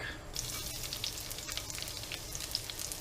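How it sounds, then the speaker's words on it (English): Garlic fries in a little olive oil in a pan, giving a steady close sizzle with fine crackling pops throughout and no talking over it. "just little olive oil. And throw in your garlic,"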